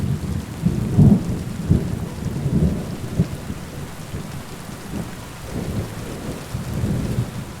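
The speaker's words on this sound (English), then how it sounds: "The first time it started to rain with lightning in the distance, I just stopped and waited for thunder to reach me." Rain and thunder in the medieval open-world game Kingdom Come Deliverance 2: a steady hiss of rainfall with deep rolling thunder rumbles swelling and fading several times, distant and heavy, no voices.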